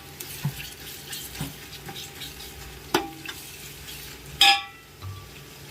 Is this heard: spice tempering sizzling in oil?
yes